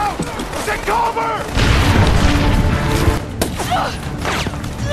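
Gunfire during a shootout in a sniper-team action film scene, a loud sustained burst of shots and impacts over several seconds, mixed with shouted dialogue and score.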